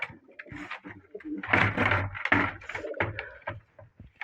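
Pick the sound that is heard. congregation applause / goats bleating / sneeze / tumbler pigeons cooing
tumbler pigeons cooing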